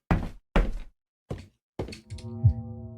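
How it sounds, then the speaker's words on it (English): Heavy footsteps in the Lover's Enigma video game thump outside a bathroom door in four separate, loud, close blows, the last one followed by a lingering low tone. "And then, footsteps. Thumping."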